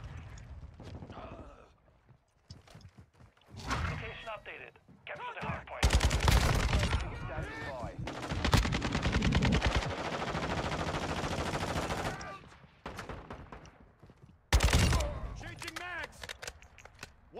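Kastov 762 rifle bursts in the Warzone 2 video game, rapid automatic fire in long loud stretches with pauses between, close and dominant, alongside game audio and a speaking voice.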